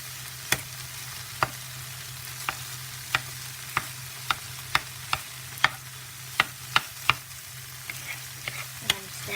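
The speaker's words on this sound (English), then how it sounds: "just to crisp up that tofu" Tofu crisping over medium-high heat in a pan for a vegan breakfast burrito: a steady low sizzle runs throughout, with a dozen sharp spatula taps and scrapes spaced irregularly across it, close and alone with no talk.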